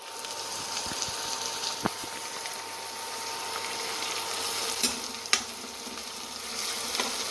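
Onion and ginger sizzle and fry steadily in a wok on the stove, a continuous close hiss broken by a few sharp clinks and scrapes of stirring, with no talk over it.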